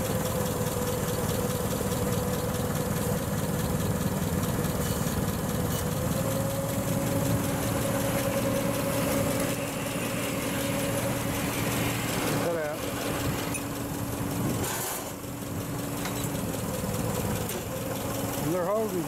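A forklift engine turns over and settles into a steady idle, its low mechanical drone running continuously and fairly loud, with a shifting tone partway through and brief bursts of noise near the end.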